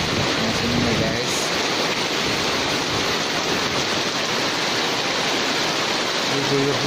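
Heavy rain pours at an outdoor market in Martapura, a steady, loud broadband wash like falling water that holds for the whole stretch, with faint voices of people talking surfacing briefly near the start and end.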